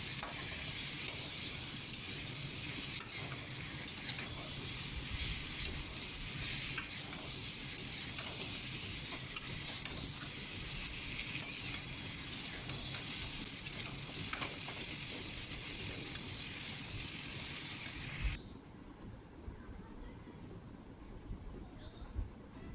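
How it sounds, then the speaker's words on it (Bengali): Potato and drumstick vegetable curry sizzles steadily in a pan while being stirred and sautéed with a splash of water, a continuous close frying hiss with scraping strokes, cutting to quiet near the end. "তো আমি এখানে আর একটু পানি দিয়ে ভালো করে তরকারিটাকে কষিয়ে নিচ্ছি।"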